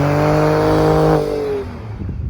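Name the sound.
Ford Raptor twin turbo engine and exhaust note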